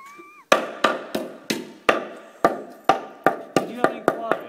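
A hammer strikes the roof of an Adria motorhome about a dozen times in a steady series of loud, sharp, close knocks, each ringing briefly before the next blow.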